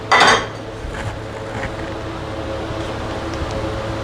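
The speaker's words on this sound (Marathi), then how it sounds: "ठेवायची कढई।" A metal kadhai is set down on a kitchen stove with a single sharp clang, followed by faint scraping and a low steady background hum.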